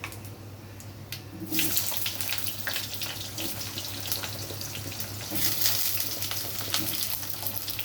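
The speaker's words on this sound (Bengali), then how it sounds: "এবার আমি বেগুন আলুগুলো দিয়ে দিচ্ছি" Aubergine and potato pieces drop into hot oil seasoned with panch phoron for a prawn curry, bursting into a loud, continuous sizzle after a quieter first second and carrying on steadily.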